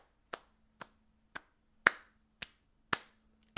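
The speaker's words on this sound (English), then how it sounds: "I give you the slowest slow clap of my entire life" Slow hand clapping, seven sharp separate claps spaced about half a second apart, close and clear against a quiet background with a faint low hum.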